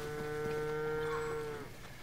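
A cow gives one long, loud moo in The Legend of Zelda: Tears of the Kingdom, a steady low bellow that holds for over a second and a half before cutting off, close and alone.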